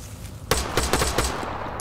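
Rifle fire in Arma 3, a quick burst of about six loud close shots in rapid, slightly uneven succession, with a final faint crack trailing after.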